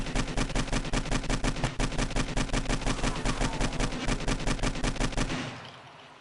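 A gun in the 7 Days to Die video game on PS4 fires in a loud, rapid, steady automatic stream of close shots for about five seconds, then cuts off abruptly.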